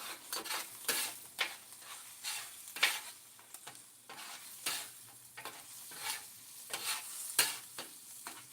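Fried rice sizzling on a flat top grill while a spatula scrapes and stirs it in quick repeated strokes, a steady soft fry hiss underneath the clatter.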